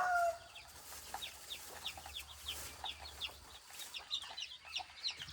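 Chickens being fed let out soft, quick clucks and high chirping peeps in a scattered stream, faint and somewhat distant over a quiet, low background hum.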